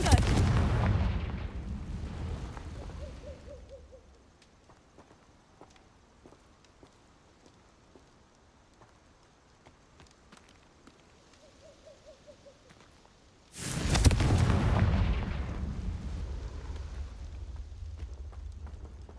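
Fire spell explosions in the video game Hogwarts Legacy: two loud, heavy blasts, one at the start and another near the end, each trailing into a rumbling decay, with a quieter low ambience between them.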